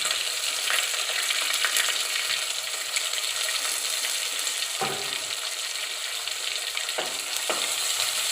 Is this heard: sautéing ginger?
yes